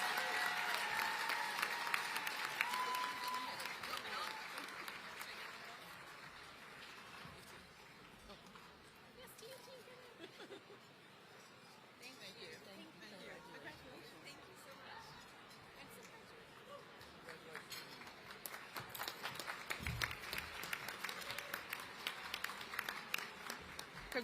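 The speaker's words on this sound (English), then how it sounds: "Let's give another round of applause for Melissa Burke of the Detroit News." Audience applause fills a banquet hall at a congressional dinner, starting loud, thinning mid-way and swelling again, with crowd chatter and a voice over the clapping.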